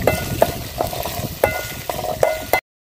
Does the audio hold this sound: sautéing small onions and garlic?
yes